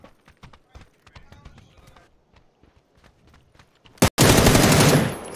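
Gunshots in a shooter video game: faint rapid shots and footstep-like taps throughout, then one sharp loud shot followed by a sustained heavy roar of fire near the end.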